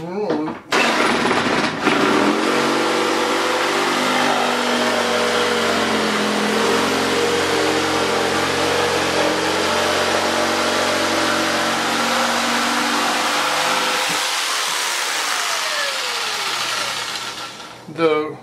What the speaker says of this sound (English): The jigsaw blade was flexing under.